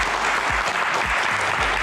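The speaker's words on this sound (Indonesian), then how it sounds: "tepuk tangan sekali lagi" Audience applause at a Q&A event, a dense, even burst of clapping from a crowd that stays loud and close for the whole brief moment.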